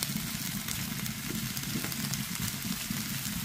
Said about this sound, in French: dans une poêle que j'ai bien chauffée, je vais venir ajouter paprika, oignon et tomates.